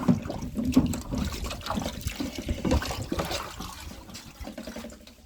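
Poultry drinkers dipped and swished in a tub of plain water, close sloshing and trickling splashes with gurgling pours, steady and moderately loud throughout.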